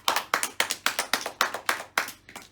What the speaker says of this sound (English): Let's give the year 6 a round of applause.